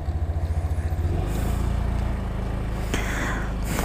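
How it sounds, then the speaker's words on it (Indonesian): A 2021 Honda Scoopy scooter rides along, its small engine giving a steady close drone with a rhythmic pulsing at first, then a smoother continuous hum with road noise. "saya mau ngetes ride motor Scoopy tahun 2021 guys"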